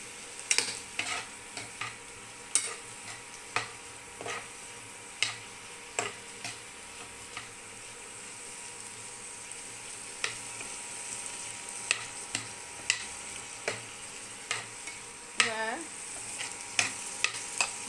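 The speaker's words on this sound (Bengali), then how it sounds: "জাস্ট 2 মিনিট মতো রোস্ট করতে হবে" Broccoli roasts quietly in a pan under a faint sizzle, with a spatula tapping and scraping in frequent sharp ticks, close and fairly soft, no voices.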